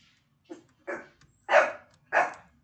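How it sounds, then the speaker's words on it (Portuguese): A dog barks four times in a quick, uneven series, the later barks louder and fuller, close by and indoors with nobody talking over it. "Oh, meu cachorro tá latindo"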